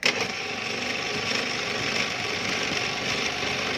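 A power drill bores a hole through a cracked, threaded motorcycle part during a welding repair, a steady continuous whir and grind running close and loud from start to finish.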